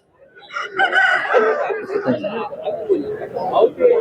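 A rooster crows close by amid a busy chicken market in Kundrapalli, South India, with people talking over it and other birds clucking in the background.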